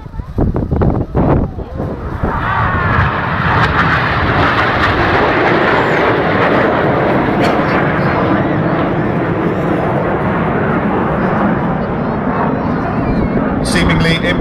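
Red Arrows jets fly past low at the 2009 Perth airshow in Scotland, a loud sustained roar that swells in after a brief moment of talk and fills the rest of the pass, with wind buffeting.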